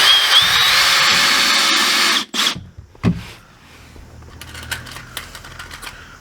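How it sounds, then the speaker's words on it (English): A power drill runs steadily for about two seconds as it drives screws into a frame. Then come a couple of sharp knocks and a brief burst, followed by quieter handling noises. "So let's shoot a few screws in this thing"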